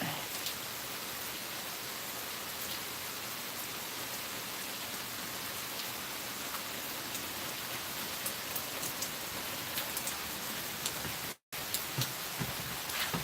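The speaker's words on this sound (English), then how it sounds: "Yep, it's raining." Steady rain patters on a surface, a constant dense hiss of drops with no voices, continuing evenly throughout.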